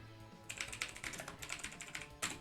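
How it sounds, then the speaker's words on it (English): Rapid typing on a keyboard, a dense run of light clicking keystrokes that goes on without pause, close and clear, with no talk over it. "She was typing."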